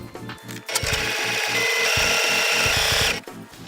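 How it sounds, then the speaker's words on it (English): Sewing machine stitching a dress dart, a close, steady mechanical whir with a rapid needle chatter that starts after a few hand clicks and stops abruptly. "I just sew all the way down with my machine"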